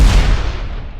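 A HIMARS rocket strike hits a Russian target, a single loud deep boom that rumbles and fades away over about a second, with no voices.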